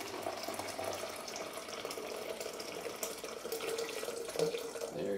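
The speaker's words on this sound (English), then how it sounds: "So let's pour in our green tea." Green tea poured into a blender for bulletproof coffee, a steady liquid splashing and trickling that continues throughout at moderate level.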